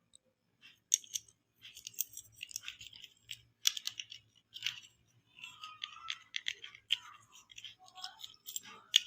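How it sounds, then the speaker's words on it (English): A screwdriver tightens a screw while fitting a three-wire module into a CRT television, making quiet, close clicking and gritty scraping ticks in irregular bursts separated by short silences, with no talking. "Tighten it with the screwdriver."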